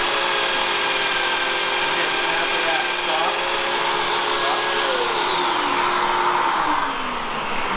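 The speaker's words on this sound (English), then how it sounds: "making sure you plunge at a steady rate so the bit doesn't chatter as it's cutting" A Festool Domino joiner whines steadily at close range as it plunge-cuts a mortise, its motor pitch dropping slightly near the end of the cut.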